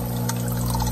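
Chiller return water sprayed onto indoor grow plants gives a short, close, continuous hiss of spray.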